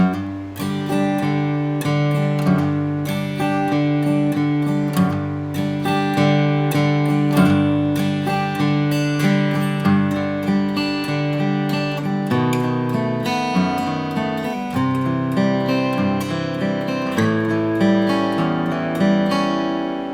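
An acoustic guitar plays the verse of a song alone, with steady picked chords and skipped-string plucks ringing clearly and evenly at moderate loudness for about twenty seconds.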